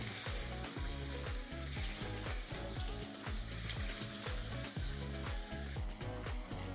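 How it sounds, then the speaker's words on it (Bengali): Marinated rohu fish pieces fry one by one in very hot oil for a Bengali fish curry, a loud, steady, close sizzle with crackling pops throughout. "এক এক করে আমি মাছগুলো ভেজে নিচ্ছি।"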